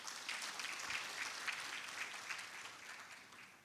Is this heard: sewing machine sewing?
no